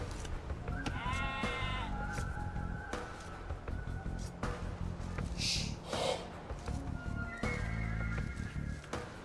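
Sheep bleat in the Age of Empires II video game, several short wavering calls scattered among busy game noise and music, loud and close.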